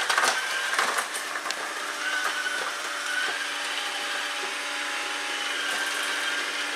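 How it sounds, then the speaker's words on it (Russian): A robot vacuum cleaner runs with a steady whirring hum and brushing noise, a few clicks and bumps early on, no voices. "Умный пылесос."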